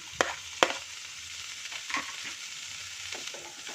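Spring onion, cauliflower and peas stir-fried over medium heat in a pan: a gentle continuous sizzle broken by a few sharp spatula knocks and scraping stirs, close and quiet, with no talking.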